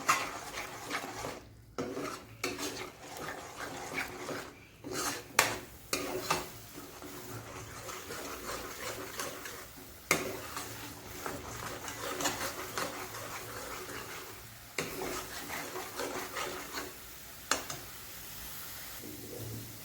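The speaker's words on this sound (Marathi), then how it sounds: "आता आपण हे चांगलं मिक्स करणार आहोत तेलामध्ये" Repeated scraping and stirring of ground spice paste in sizzling oil, a spoon dragging and knocking against the pan in irregular strokes, close by.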